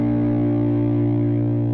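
Electric guitar with drive through a Line6 HX Stomp ambient patch rings out as a sustained, distorted chord with sizzling sustain, steady and loud across the whole stretch.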